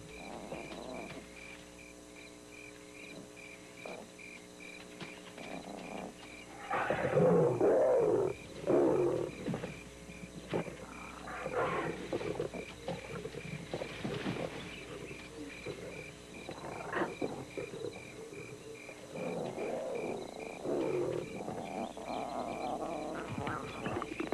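Lioness hunting an antelope in the wild, with growls and roars rising in bursts over a quiet background of insects and night ambience, loudest in the middle and again near the end.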